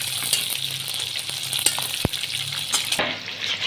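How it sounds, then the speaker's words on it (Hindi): Chicken deep frying in hot oil, a steady dense sizzle with crackling pops and occasional stirring knocks, close and continuous with no talk. "चिकन हमारा कितना ज़बरदस्त ये फ्राई हो रहा है।"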